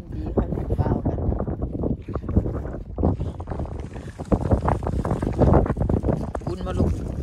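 Steady wind buffets the microphone during a family boat trip to an island, a loud continuous rush and roar that swells and gusts throughout while people talk over it.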